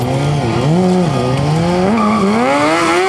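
A freestyle stunt motorcycle drifts with its rear wheel spinning, the high-revving engine wailing and wavering in pitch as throttle is worked, up close and loud for a few seconds.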